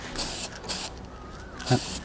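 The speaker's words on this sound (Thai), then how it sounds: "เดี๋ยวเราจะไปพ่น สีสเปรย์ทับอีกทีนึง" Spray paint hissed from a can onto a wooden wall scale model in several short close bursts, separated by brief pauses.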